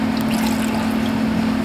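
Triple sec orange liqueur pours steadily from a bottle into a cocktail, a continuous close trickling splash with a constant low hum under it.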